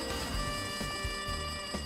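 A telephone rings continuously in the Danganronpa 2 video game, a steady electronic trill over game background sound, with no talking.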